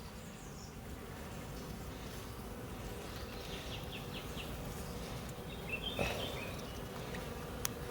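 Honeybees swarm around an open hive during a queen introduction, making a continuous, moderately faint buzz of many insects with a few nearer passes and small clicks.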